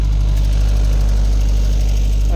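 Can-Am 1000cc off-road vehicle engine idling, a steady loud low rumble that holds even throughout with no talk over it.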